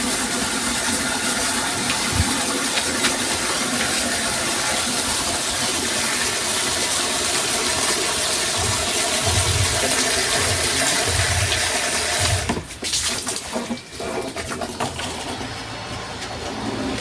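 A 0.75HP submersible pump drains a deep well, its water gushing steadily into a drum that is nearly full, a loud continuous splashing rush that briefly dips and sputters near the end.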